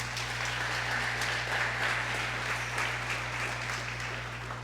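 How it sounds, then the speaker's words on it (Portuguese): A church congregation applauds, a quiet, distant-sounding patter of many hands clapping that runs evenly throughout, set against a steady low electrical hum. "Dá um aplauso a Jesus aí."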